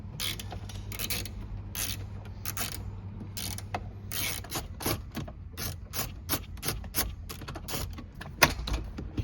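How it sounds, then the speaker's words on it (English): 7 mm ratchet with an extension backing out gauge cluster screws on a 1984–1989 Chevrolet Corvette C4, a string of close, sharp clicking bursts in uneven runs over a low background hum. "your 7 millimeter ratchet and extension will reach them"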